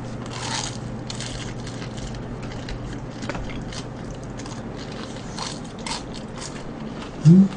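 Crisp crunching bites of fried chicken and chewing come in scattered bursts over quiet background hum, close to the ear.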